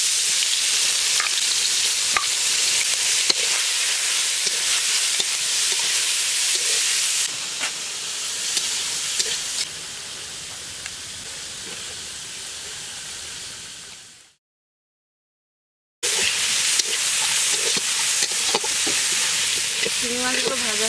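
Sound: prawns frying in a pan

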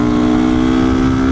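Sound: motorcycle accelerating

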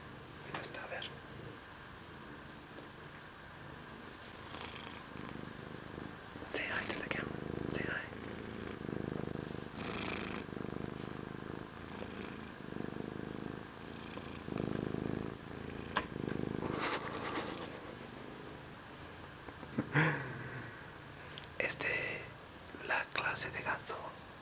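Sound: Russian Blue cat purring

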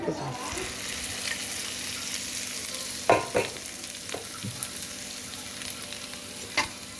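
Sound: mixing lemon rice in a pan

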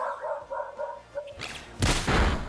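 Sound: dog barking in Pokémon Scarlet/Violet video game

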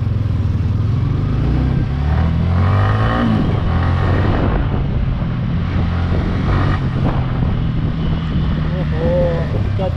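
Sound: modified Yamaha R15 V3 motorcycle engine running

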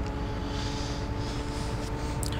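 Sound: Van Hool Linea bus engine in OMSI 2 video game

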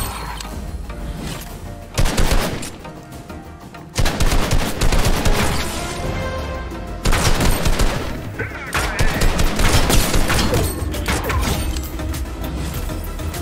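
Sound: gunfire in a shooter video game

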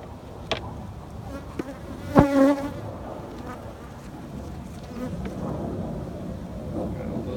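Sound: honey bees buzzing around a hive

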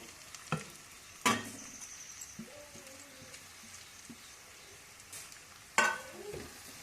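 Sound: carrot and mint frying in a pan

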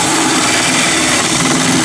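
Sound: power drill drilling holes for a solar furnace

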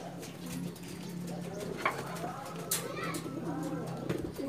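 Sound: racing pigeon arriving and cooing

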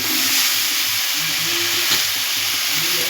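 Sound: vegetables and grated potato sizzling and stirred in pan

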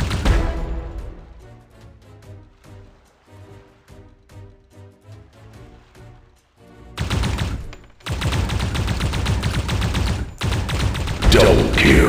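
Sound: gunfire in mobile shooting video game Wild Lands XL

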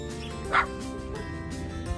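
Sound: dogs barking at a dog park

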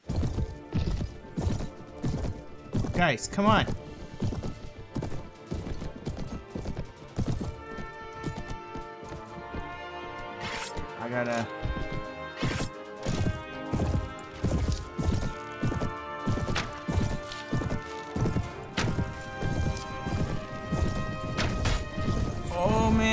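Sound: enemy horses galloping in video game Mount and Blade Warband

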